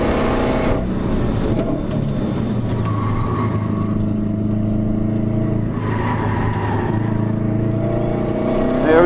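A car engine drones steadily and rises in pitch as it accelerates smoothly on a ride-along at a car festival, loud and close, with no voices.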